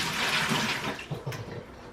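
Water gushes into a regular Lowe's bucket before tile mortar mix is stirred in, a loud, close, steady pouring splash filling the whole short moment without any voices.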